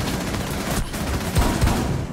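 Rapid video game gunfire, a dense close fusillade of shots rattling for about two seconds with a couple of heavier reports near the end, no voices.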